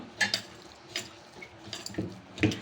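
Chili powder and coconut oil being kneaded together by hand in a bowl, soft squelching and rubbing with a few sharper knocks, close and fairly quiet.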